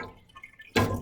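Water runs and drips from the bottom of a water-quenched metal test specimen in a lab, a faint trickle and then a louder splashing burst near the end, with no voices.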